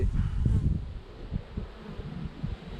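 A honeybee swarm hums steadily through a hive inspection, a close, low drone with brief rustles and a slightly louder stretch at the start.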